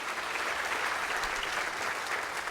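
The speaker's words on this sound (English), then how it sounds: "Can we get a round of applause for this group of seniors sitting right here?" Full, continuous applause from a church congregation at a Senior Sunday service, dense and sustained at an even level with no voices over it.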